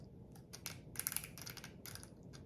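Lego ratchet joints on the Lego Creator 3-in-1 underwater robot set 31090 click in a brief, close cluster of sharp plastic ticks, with lighter scattered clicks before and after over a quiet background.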